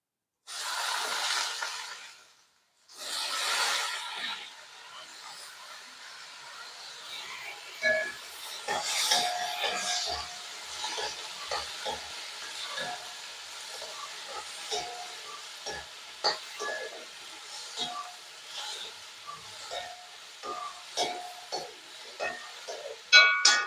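Chopped eggplant hits a pan of onions and fries with a soft sizzling hiss, broken by scraping and stirring, moderately quiet and close after two brief louder bursts at the start.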